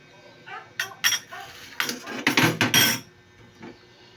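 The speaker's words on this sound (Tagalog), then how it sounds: "gamitin na lang natin siya ng kutsara para ma-mix natin ng ayos" A metal spoon stirs instant coffee with sugar and cream or milk in a cup, quick clusters of bright clinks and scrapes against the sides, close and fairly loud.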